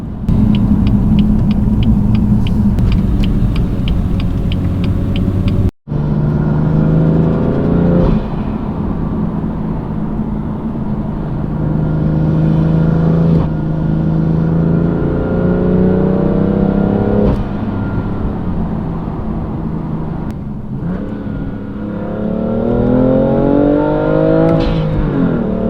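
A BMW F80 M3 driven along a snowy mountain road, its engine rumbling steadily from inside the car and rising in repeated revving pulls as it accelerates through the gears, loud and close throughout after a brief cut early on.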